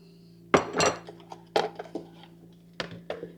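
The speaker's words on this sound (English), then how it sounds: "Just stir it up till it's nice and smooth." A utensil stirs apple fritter batter made with apple juice in a bowl, giving a few sharp clinks and scrapes against the dish in short irregular bursts, close and clear with no talking.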